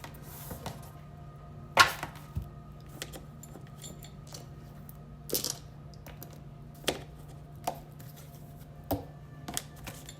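A large deck of cards is handled and swapped, giving scattered light clicks and sharp rustling snaps at irregular intervals, close and fairly faint, with no talk.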